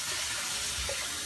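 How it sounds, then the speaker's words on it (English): Cold water runs steadily from a kitchen tap into a sink as salmon is being prepared, a continuous close hiss of flowing water with no voices over it. "Now put cold water on there."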